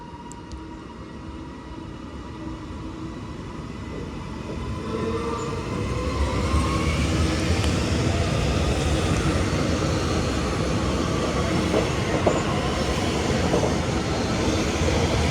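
A train pulls away from Oxenholme station in the Lake District, its rumble and rail noise swelling gradually from moderate to loud and steady as it gathers speed, with no voices over it.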